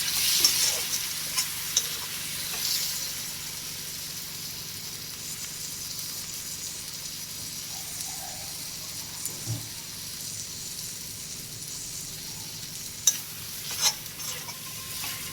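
Turmeric and coriander powder fry in a pan for a fish-head mung dal, giving a steady soft sizzle with occasional scraping stirs and a couple of sharper utensil taps, without any talk.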